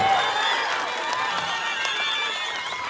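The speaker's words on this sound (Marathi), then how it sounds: "जोरदार टाळ्या" Steady, sustained applause from a large crowd at an outdoor political rally in Kada, Ashti, Beed, continuous and even throughout with no distinct voices above it.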